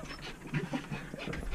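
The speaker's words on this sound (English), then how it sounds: "The dogs are desperate to get out of the car, as you can see." Dogs waiting in a car before a walk in South Jakarta pant quickly and eagerly at close range, with a soft whimper in the short burst of breathing.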